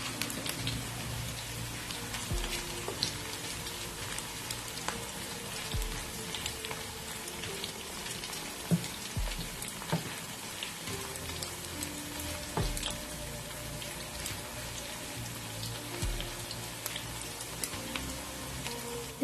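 Finely chopped brinjal fries in a pan for a chana dal and brinjal dish, crackling and popping in a soft, steady patter like light rain, with scattered sharper pops and no speech.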